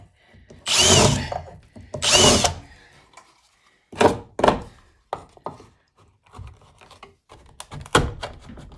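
A power drill whirs in two strong bursts, followed by a series of shorter knocks and drilling spurts on wood, close by.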